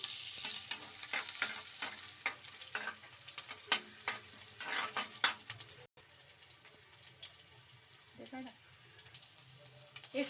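Onions frying in a pan with green gram added, stirred with repeated scraping strokes over a steady sizzle, with a brief dropout midway before the frying hiss resumes.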